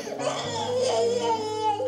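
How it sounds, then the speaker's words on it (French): A three-year-old girl in a village in central Kenya crying and sobbing steadily at close range, with wavering high wails throughout and no other voices. "les voilà les véritables pleurs"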